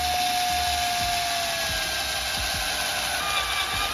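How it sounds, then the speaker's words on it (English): A power drill runs continuously with a steady high whine, boring into the center hubcap of an alloy wheel, its pitch dipping slightly, with faint clicks underneath. "drill into the center hubcap"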